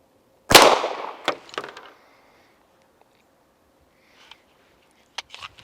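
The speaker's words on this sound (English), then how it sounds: "One round in the pistol, I'm going to aim dead center in the target." A single loud, close pistol shot is fired at a target and its echo dies away over the next second. Faint clicks and handling noises follow.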